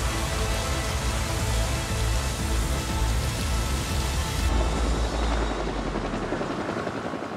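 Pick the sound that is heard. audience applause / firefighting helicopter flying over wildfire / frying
firefighting helicopter flying over wildfire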